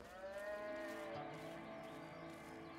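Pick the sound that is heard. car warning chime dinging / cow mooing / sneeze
cow mooing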